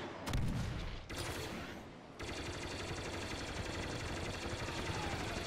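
Starfighter blasters and weapons in Star Wars Battlefront 2 fire in a loud, rapid, continuous barrage over a roaring engine, with a heavy blast near the start and a brief dip before the shooting resumes.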